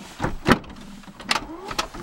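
The door of a 2012 Dodge Grand Caravan minivan opens after a pull on its handle: a few sharp mechanical clunks and latch knocks, with a brief rising whir between them, heard close.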